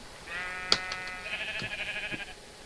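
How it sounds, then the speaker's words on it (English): Sheep in the Minecraft video game bleat once, a clear wavering call lasting about two seconds, preceded by a small click and heard alone over quiet background. "That's the first sheep I've seen."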